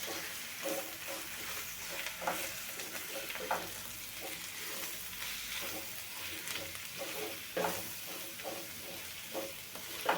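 Spiced capsicum sabji stirred in a pan: a continuous soft sizzle under irregular spatula scrapes and knocks, close and steady, with no voices.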